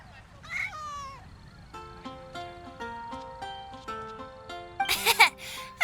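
A cat meows in the Genshin Impact video game, a couple of short rising mews near the start, then plinking game music notes with a brighter cry and laugh-like burst near the end.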